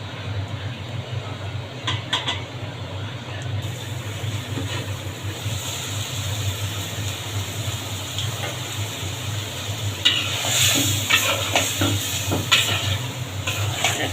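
Drumstick vegetables cook in mustard paste, a soft continuous sizzle with occasional stirring scrapes over a low steady hum, growing a little busier toward the end.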